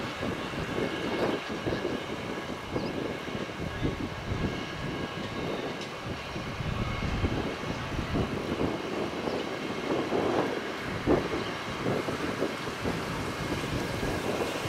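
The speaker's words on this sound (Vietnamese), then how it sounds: "Máy bay đang chạy taxi trên đường lăn để ra đường băng cất cánh không hai phải." A Vietnam Airlines Airbus A321 taxis toward the runway at Cam Ranh airport, heard from a pond bank nearby as a steady, broad engine rumble and whine that holds at an even, moderate level, with no talk.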